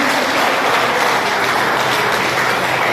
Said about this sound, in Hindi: एक बार जोरदार तालियों के साथ हम